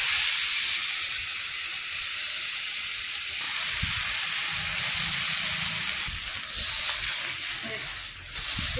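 Prawns sizzle loudly in a hot pan as water is added, a harsh, continuous, close hiss that holds steady throughout and briefly dips near the end.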